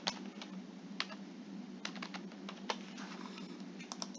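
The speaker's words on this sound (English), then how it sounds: "You will then type in your student's date of birth" Typing on a computer keyboard while filling in a student application form: quiet, steady key clicks in an irregular rhythm, close and alone, with a few sharper keystrokes.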